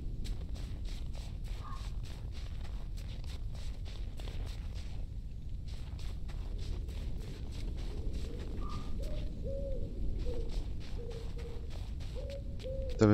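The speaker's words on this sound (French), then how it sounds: "Même les cris des oiseaux sont bien faits." Owl hoots and birdsong sound in a video game, scattered low hooting notes and brief calls over a steady ambient hum with repeated soft clicking steps, all faint and without talk.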